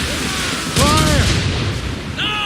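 Ship cannons fire in the video game Assassin's Creed Rogue as a loud, heavy boom that rolls on over dense naval battle noise, with voices shouting in the background.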